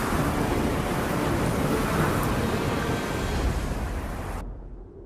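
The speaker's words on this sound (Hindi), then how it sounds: "ये तूफान तब तक थमना नहीं चाहिए जब तक वृंदावन पूरी तरह पानी में डूब न जाए।" A heavy, continuous roar of storm noise, rain and wind with rumbling low thunder, loud and unbroken before cutting off abruptly near the end.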